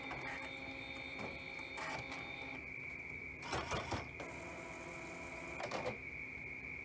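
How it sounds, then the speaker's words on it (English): An Epson P600 printer powering on, with a steady whine and bursts of mechanical whirring and clicking from its startup cycle, moderately quiet with no talk. "now that the printer has powered on"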